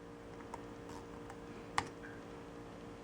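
Keys tapped on an HP Touchpad wireless Bluetooth keyboard while entering a pin code, a few faint, sparse clicks over a steady low hum.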